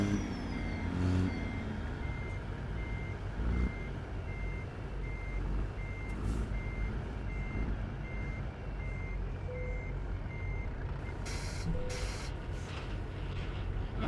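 Reversing beeps of a Peterbilt 389 truck backing up in American Truck Simulator, a steady series of regular high beeps repeating over a low engine rumble, with a few brief hissing bursts near the end.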